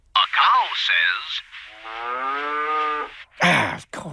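A cartoon cow gives one long, loud, drawn-out moo, preceded and followed by short animated voices.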